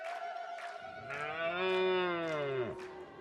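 Cattle of the Herero people in Namibia give a long, loud, close moo that rises and sags over a couple of seconds before breaking off.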